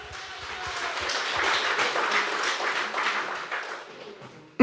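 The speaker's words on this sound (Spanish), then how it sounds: "Fuerte aplausos, aleluya." Church congregation claps together in a broad wash of applause that swells and holds, then fades toward the end before a sudden loud thump cuts in.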